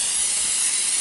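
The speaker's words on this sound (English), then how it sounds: "Spray it with Pam, or whatever spray you have" A continuous hiss from a can of cooking spray spraying a fish-shaped mold for about a second, close and steady.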